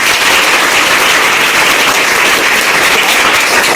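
An audience claps in dense, steady applause honoring a tailor's son who succeeded in an exam, loud and continuous with no talk over it.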